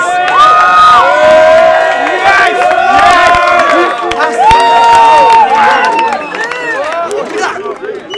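A loud crowd at a Don't Flop rap battle cheers and shouts excitedly, with high-pitched whoops and yells layered over one another and sustained throughout before easing slightly toward the end.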